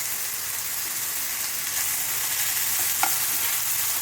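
Cauliflower bhaji with curry leaves, turmeric and a homemade spice mix fries and is stirred in a pan, giving a steady broadband sizzle with a faint scrape near the end, no voices.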